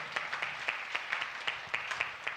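A church congregation clapping hands in a rhythmic, steady beat, many hands together in a fairly close, reverberant room, continuous throughout.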